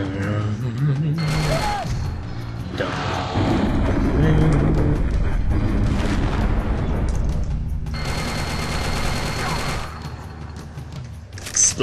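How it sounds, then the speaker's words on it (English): Explosive rounds fire in Turok: Dinosaur Hunter as a series of loud booming shots and blasts in rapid bursts, separated by brief pauses. "Explosive rounds."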